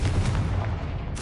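A Confringo spell explosion goes off in a Harry Potter video game, a loud, dense booming burst with a low rumble running through the whole moment and a brighter crack near the end.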